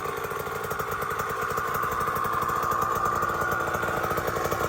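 A dirt bike engine runs close by at a steady, fast-pulsing idle, loud and continuous with no voices.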